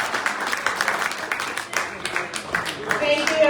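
An audience applauds the touring doctors in Williams Lake, BC, with steady clapping throughout and a voice speaking over it.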